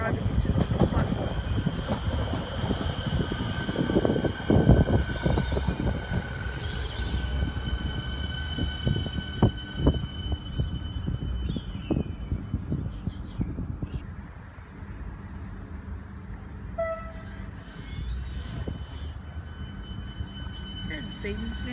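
A Siemens train rumbles into a station platform at Parkdale, a rolling, clattering mechanical roar that stays fairly loud before easing off, with people talking over it.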